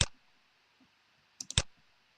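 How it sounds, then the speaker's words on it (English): A few crisp computer mouse clicks, one alone at the start and then a quick pair near the end, close and sharp in a quiet room. "left mouse click, and then a right mouse click to close"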